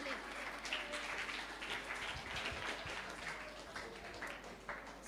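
Faint, even applause rises from an audience at a children's naat competition, a soft continuous patter of clapping heard from a distance.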